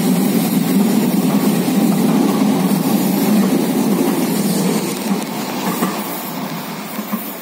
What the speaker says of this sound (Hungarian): Itt megy arra a szerelvény, amivel kellett volna mennem.